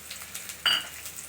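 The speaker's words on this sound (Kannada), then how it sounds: "ಶುಂಠಿ ಬೆಳ್ಳುಳ್ಳಿ ಹಾಕ್ತಾಯಿದ್ದೀನಿ" Ginger and garlic hit hot oil for a Mandya-style mutton sambar, bursting into a sudden, short, bright hiss over a faint background crackle.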